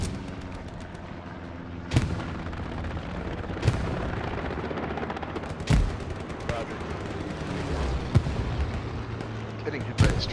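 Aircraft strafing gunfire in the World War II shooter Hell Let Loose: several sharp, loud impacts and bursts spaced a couple of seconds apart over a dense rumbling battlefield din, with a voice talking faintly underneath.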